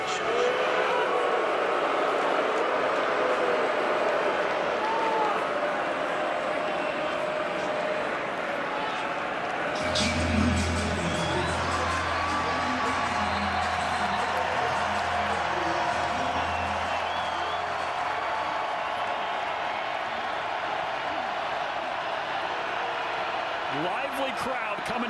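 Stadium crowd at a Fresno State versus Boise State college football game, a broad sustained roar throughout with a deep rumbling swell midway, and voices mixed into the noise.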